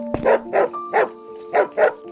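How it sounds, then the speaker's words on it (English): A dog barks five times in a low, rough voice, the barks evenly spaced and fairly close, with a faint steady hum beneath them. "a bark echoed, low and rough."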